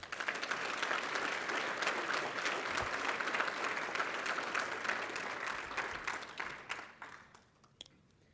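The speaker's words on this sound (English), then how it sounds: "Ladies and gentlemen, we applaud Sergeant Aaron Smith, who has received a Chief's Award for creativity" An award ceremony audience applauds for a police sergeant receiving a chief's award, a steady wash of many hands clapping at moderate distance, sustained for several seconds before tapering off and fading out.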